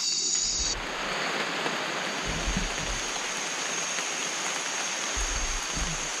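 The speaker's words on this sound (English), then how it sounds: "it's the last night and it's raining" Steady broadband hiss of rain falling at night in Costa Rica, dense and continuous, with a few low thumps underneath; no voices.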